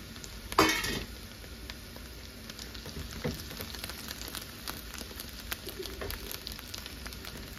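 Chopped onion and tomato fry in a pan with a steady sizzle, opening with a brief clatter as they go in, then a continuous crackle with soft stirring.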